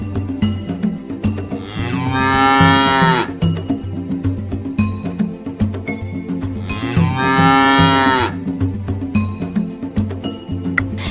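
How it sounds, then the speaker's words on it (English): Cow mooing in a farm animals learning game, two long loud moos around the middle and end, set over a steady bouncy music backing that runs throughout. "A cow says moo"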